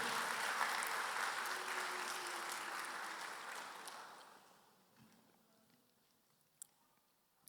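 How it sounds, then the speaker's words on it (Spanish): A church congregation applauding, with dense, loud clapping that gradually fades away over several seconds, leaving near quiet with a couple of faint knocks at the end. "Den un aplauso a Dios, por favor,"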